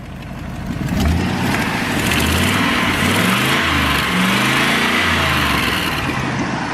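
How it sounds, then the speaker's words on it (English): A rough engine starts up and keeps running with a loud, ragged, sputtering drone and shifting low tones, like an old truck with leaky exhaust. "Sounds like an old beat up work truck with some exhaust leaks."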